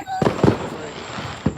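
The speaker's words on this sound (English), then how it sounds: "Again, you go again with the poppers." Fireworks poppers crack off outdoors in a few sharp bursts, two close together near the start and another after a pause, over a low background hum.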